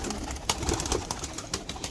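Habshi pigeons, a young bird of a pure high-flying bloodline, cooing close by over dense background noise, with soft repeated coos through the short stretch.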